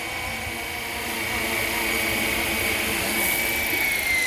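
An RC Flywing Bell 206 helicopter with a four-blade rotor descends slowly to land, making a steady, close whirring drone with a thin motor whine that holds constant and swells slightly near the end.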